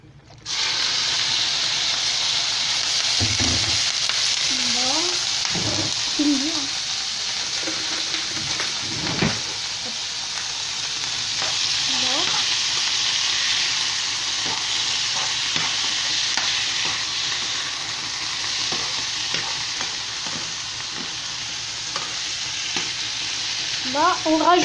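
Olive oil frying in a pan gives a steady, close sizzle that lasts throughout, with occasional clinks and scrapes of stirring and some faint voice-like sounds in the background.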